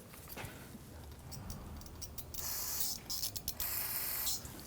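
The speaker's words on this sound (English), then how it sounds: "you can take some spray solvent" Short hissing bursts of an aerosol solvent spray, a few quick pulses then a longer spray, close and fairly loud, with light clicks before, during radiator cooling fan work on a Volvo XC60.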